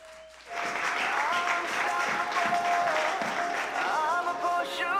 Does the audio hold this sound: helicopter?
no